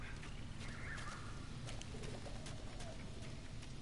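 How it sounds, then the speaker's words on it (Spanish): A pigeon coos in the video game The Last of Us, giving soft repeated throaty calls faintly over a low steady ambient rumble, with no one talking. "No sé si eso era una paloma o algo gritando."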